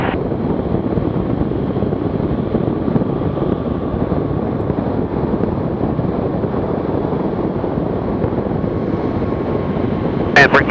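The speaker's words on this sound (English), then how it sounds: "we're going to start adjusting power and pitch and trying to land short" A STOL light airplane's engine drones steadily during a short landing approach with power being adjusted, a loud continuous cabin hum mixed with wind rush and no clear breaks.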